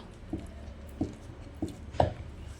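A wooden ghotna masher works through cooked saag in a pot, giving four soft, dull thuds spaced about half a second apart, the last one heavier and squelchier.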